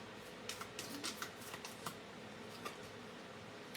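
Oracle advice cards are shuffled by hand, a quiet run of soft riffling flicks and taps close by, several quick bursts followed by a lighter one near the end, with no voice.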